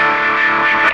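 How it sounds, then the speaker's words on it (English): Electric guitar run through an envelope filter pedal with added distortion, one sustained gritty, buzzing note held loud and close for about a second before cutting off. "You can even add a little distortion."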